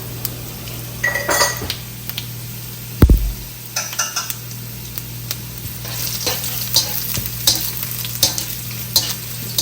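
About a tablespoon and a half of cumin seeds hit hot oil for a tarka, with a steady close sizzle under scraping and clinking from stirring in the pan and one sharp knock partway through, no voices.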